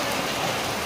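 Hail falling outdoors, a dense, loud, continuous hiss of countless small impacts on surfaces, steady throughout with no talk.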